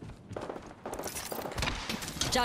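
Apex Legends gunfire crackles in quick bursts at moderate loudness, the shots clustering over a few seconds with a brief footstep-like shuffle mixed in.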